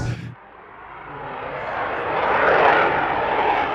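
A jet aircraft on afterburners pushes over the top at negative G during a warbirds airshow at Temora, producing a broad roar that swells steadily from quiet to loud and stays strong to the end, with no voices.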